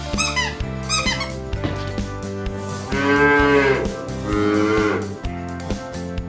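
A cow moos twice in a row, two long, moderately loud calls with a short gap between them, after some earlier squeaky chirps and light knocking.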